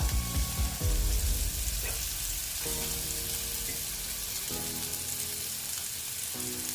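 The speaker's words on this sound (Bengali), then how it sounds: "আলুগুলো মোটামুটি ভাজা হয়ে গেছে এবার আমি এখানে একে একে মশলাগুলো দেব প্রথমে দিয়ে দিচ্ছি আদা" Potatoes frying in hot oil with ginger added, a steady close sizzle with brief clinks and stirring scrapes, no voices.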